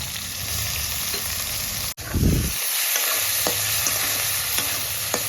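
Whole garam masala spices and bay leaves sizzle steadily in hot oil, with a brief cut and a louder burst as they hit the pan, then a continuous crackling fry and occasional stirring clicks.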